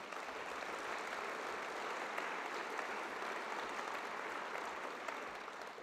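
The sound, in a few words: audience applause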